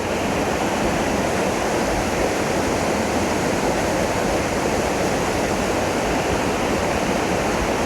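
Stream water rushes in a dense, unbroken roar near a rail bridge at the site of the 1933 Glen Massey train wreck, loud and steady with no voices.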